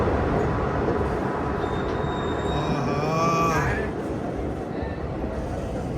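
A train runs on the Katra to Srinagar line in Jammu and Kashmir, a loud continuous rumble of wheels and carriages with a rising metallic squeal and whine near the middle, heard steadily from on board.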